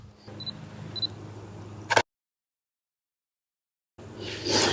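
A Canon R6 camera fires its shutter once for a photo at f/2.8, a single sharp click followed by brief silence, close and alone with no voices.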